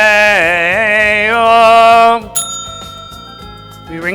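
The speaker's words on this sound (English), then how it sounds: "We ring the bell." A bicycle bell rings once with a bright metallic ting that lingers and fades, preceded by a loud sustained tone and ending as another sound begins.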